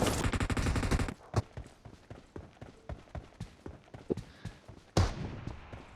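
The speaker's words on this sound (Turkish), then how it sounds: "AVM'ye deagle sıkıyorum ya" Desert Eagle pistol fire in PUBG Mobile, opening with a rapid, dense volley of shots, then a run of single sharp cracks spaced about every half second, with another burst near the end.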